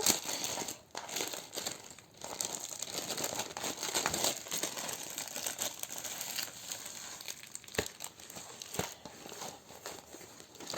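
A canvas being unrolled and opened makes continuous crinkling and rustling, with occasional sharper crackles and a few soft knocks, close by and fairly quiet.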